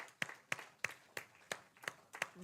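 About eight slow, evenly spaced hand claps, crisp but faint, in otherwise quiet surroundings, offered for a performing group called Joyful Expressions.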